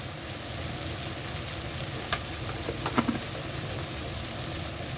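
Cubes of elephant foot yam sauté in hot oil with salt and chili powder, making a continuous even sizzle with a handful of faint clicks and taps from stirring.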